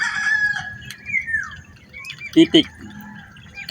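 Eleven young ducklings calling in a backyard pen, with thin high peeps and a couple of louder close calls near the middle, over a low background hum.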